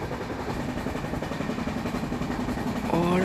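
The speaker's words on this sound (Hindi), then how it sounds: "ये जो ट्रेन है Sealdah Balurghat express, total 14 coaches को लेके चलती है" The Sealdah Balurghat Express, a 14-coach train in Trainz Simulator, gives a steady, loud, rumbling run throughout. Near the end a sustained horn-like tone sounds over the noise.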